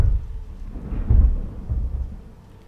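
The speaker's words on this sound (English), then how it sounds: "Oh, thunder." Thunder in the video game Alien Isolation rumbles low and deep in a few rolling swells that fade out, with faint rain beneath.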